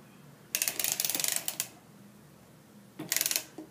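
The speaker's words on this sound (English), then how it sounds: "Now I'm cranking forward, but always while I crank forward, I have to hold down on the setup bonnet." A hand-cranked knitting machine is turned forward in two bursts, each a quick run of sharp, ratcheting mechanical clicks, up close with a quiet pause between.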